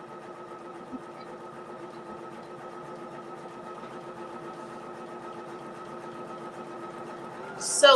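An embroidery sewing machine stitches a quilt block for a butterfly garden hanger, a steady mechanical whir with a fast even needle rhythm held at moderate level throughout, then a brief louder burst at the very end.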